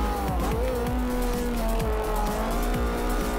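A race car in Forza Motorsport 4 drives hard with a loud, steady engine drone that rises and falls through gear changes, while tires squeal through the turns, close and constant.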